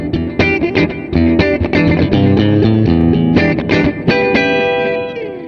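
Electric guitar played through a NUX Mighty 8 BT practice amp on its super reverb preset: a steady run of strummed chords and picked notes with a lush reverb tail, loud and continuous, ringing out at the end.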